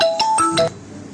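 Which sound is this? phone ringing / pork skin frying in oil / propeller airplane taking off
phone ringing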